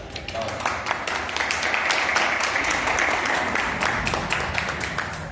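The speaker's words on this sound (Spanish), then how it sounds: "les pido un aplauso para ellos" A conference audience at a SOFA Academy 2025 talk on learning mathematics, physics and programming breaks into sustained, dense applause that fills the hall evenly for several seconds.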